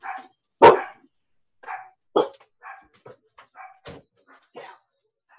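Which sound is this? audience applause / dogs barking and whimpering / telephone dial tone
dogs barking and whimpering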